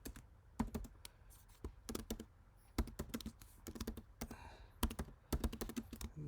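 Fingers type on a computer keyboard in quick uneven bursts of crisp clicks and key thunks, close up, with short pauses between runs and no talking.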